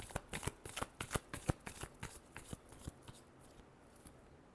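Tarot cards being shuffled by hand, a rapid series of crisp riffling flicks that thin out toward the end, close and quiet with no talking.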